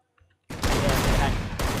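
Heavy gunfire in a video game battle erupts after a brief quiet moment, a dense sustained fusillade of rapid shots that stays loud and close until the end.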